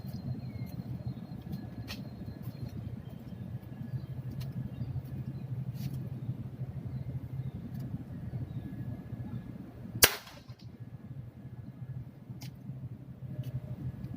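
A rubber-band slingshot shot pierces tin cans, heard as a single sharp, loud crack partway through against a steady low background rumble.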